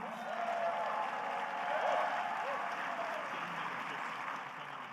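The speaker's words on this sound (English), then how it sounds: "They all certainly deserve all of your applause and recognition" Audience applause at a mayor's State of the City address, a steady, fairly faint wash of clapping across the whole stretch with a brief swell near the middle and some background voices.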